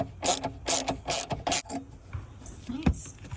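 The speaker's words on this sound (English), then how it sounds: "I think threading this bolt down farther is a more elegant solution." A ratchet clicks in four quick bursts while threading a bolt down on the battery hold-down of a Toyota 4Runner, close and crisp, followed by quieter handling clatter and a faint tap.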